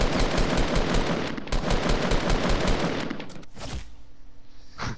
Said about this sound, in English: I'm shooting another guy.